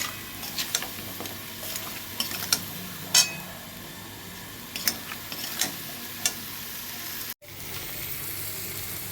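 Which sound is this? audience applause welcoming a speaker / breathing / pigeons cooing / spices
spices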